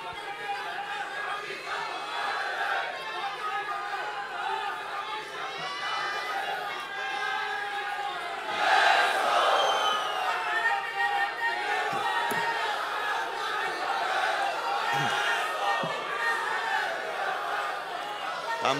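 Large crowd at an outdoor political rally, a continuous roar of many voices with shouts and chatter, swelling into louder cheering midway and then settling back to a dense murmur.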